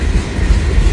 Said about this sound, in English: this is the fifth train or fourth train for me, I think